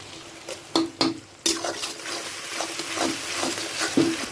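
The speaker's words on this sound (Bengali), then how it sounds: "আদা রসুন কাঁচা লঙ্কা পেস্ট দিয়ে দিচ্ছি" Ginger, garlic and green chili paste hits onions frying in a pan for a desi chicken dish, giving a steady soft sizzle broken by a few sharp scrapes and clinks of a stirring spoon.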